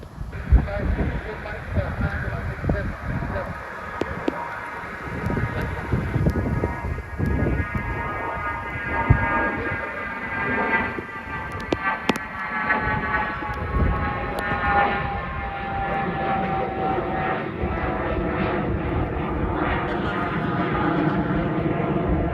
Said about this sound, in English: Taking off now is a British Airways Dornier 328-300 jet.